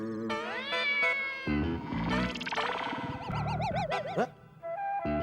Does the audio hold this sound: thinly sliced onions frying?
no